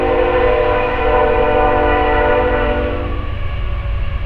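A train rolls past close by, its horn blaring in loud sustained tones over the heavy rumble of rail cars, with the horn easing off toward the end.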